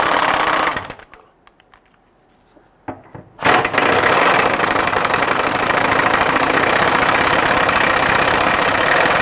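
Power tool noise while loosening two 14mm drive shaft bolts on a 2006-2012 Toyota RAV4 3.5L V6: a loud steady whirring drone, broken by a quiet gap of about two seconds, then resuming strongly.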